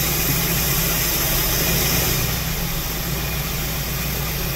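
A motor home engine runs steadily during carburetor air and fuel adjustment, giving a constant close rumble with a hissing top end. The level drops slightly about halfway through, and no one speaks.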